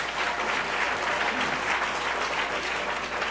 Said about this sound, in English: Another round of applause for the great work he's doing in Tennessee